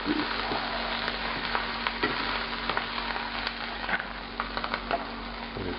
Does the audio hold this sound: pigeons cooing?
no